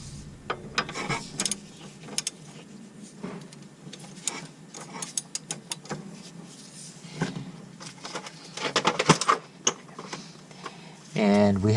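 A 17mm socket ratchet clicks in short bursts on a 1988–1991 fourth-generation Honda Civic axle nut, with metallic clinks and tool handling between strokes.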